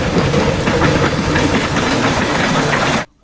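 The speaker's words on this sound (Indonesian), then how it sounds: "Ada kereta lokomotif." A toy locomotive train runs with a loud, continuous mechanical rattle and steady clattering that holds evenly, then cuts off abruptly near the end.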